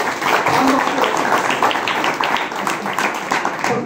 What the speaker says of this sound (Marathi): आणि खरंच भाऊसाठी टाळ्या,